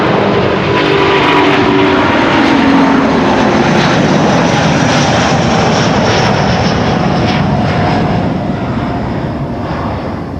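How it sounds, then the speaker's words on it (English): Delta Air Lines Airbus A330neo at Amsterdam Schiphol, a loud, close, sustained jet roar that swells slightly and then eases toward the end, with no voices. "This is Delta Airlines flight 143 to Seattle in Washington, an A330 Neo"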